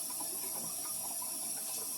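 Tap water runs steadily through the cavity of a raw turkey being prepped for roasting, a continuous hissing, splashing stream held close and alone.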